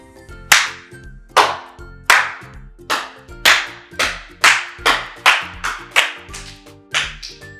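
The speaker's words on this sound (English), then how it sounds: "I'm gonna send out a clap" Sharp hand claps ring out one after another, about a dozen in a slightly irregular rhythm, each with a quick bright decay over a faint steady hum, used in a demonstration of echolocation with no speech.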